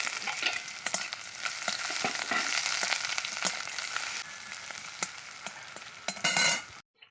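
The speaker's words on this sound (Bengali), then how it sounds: "শুকনো লঙ্কা আর পেঁয়াজটা ভেজে নিব" Dried red chillies and onion fry in hot oil for a Bengali mashed-potato bata, sizzling steadily with repeated stirring clicks and scrapes of the spoon throughout, fairly close and loud, then cutting off abruptly near the end.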